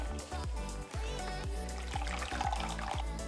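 Homemade tigernut milk trickles and drips from a strainer bag as it is squeezed out, a soft, close liquid dribble with small splashes, quiet and without talk.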